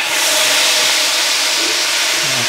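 Onions frying in a pan for an aloo baingan dish, a loud continuous close hiss of sizzling oil with no talk.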